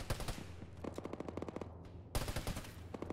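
Rapid automatic gunfire bursts crackle through an Arma tactical combat game session with ShackTac, several dense volleys separated by brief pauses, loud and close with no talk.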